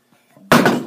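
A cheap oven door bangs shut with a single sharp, loud slam after a few faint handling sounds, ringing out briefly before fading.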